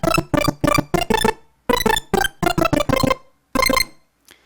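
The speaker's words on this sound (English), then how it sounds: "abuse it so that it sounds like an 8-bit chiptune video game lead" A NI FM8 arpeggiator playing an 8-bit chiptune video game lead, rapid staccato bursts of bright buzzy notes in quick rhythmic groups separated by short gaps, close and fairly loud.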